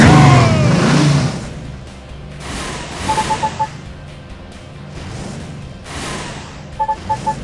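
A monster truck engine revs and whooshes in a Blaze and the Monster Machines racing game, with surging bursts, short chiming effects and background music.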